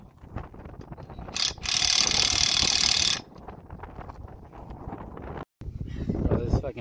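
Wrench working loose tight lug nuts on a Nissan 240SX, a loud, close ratcheting burst lasting over a second, set among outdoor wind noise and people talking.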